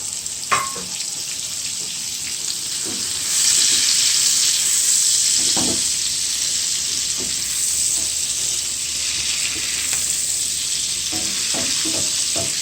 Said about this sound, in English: We're gonna add the oil in. We're gonna add the shrimp in.